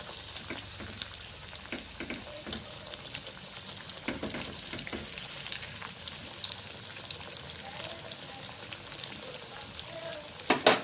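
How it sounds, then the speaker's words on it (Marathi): Fish crackles and fizzes in a pan of hot oil, a continuous spitting sizzle with scattered pops and a couple of louder knocks near the end. "या गरम तेलमध्ये त्याला असं फ्राय होऊ द्या."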